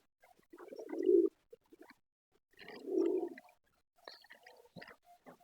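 Two low, throaty coos from a pigeon sound close by, separated by pauses, with faint chirps and rustling in between.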